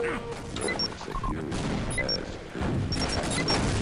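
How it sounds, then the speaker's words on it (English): Grenade explosions in Team Fortress Classic, a rapid run of booming blasts and crashes mixed with gunfire, loud and continuous under a voice talking over the action. "Oh, he's throwing grenades now."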